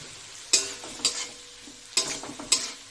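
Ground tomato paste and a few tomato pieces being stir-fried in a pan for a drumstick dish, four sharp spatula scrapes over a soft sizzle, close and quiet.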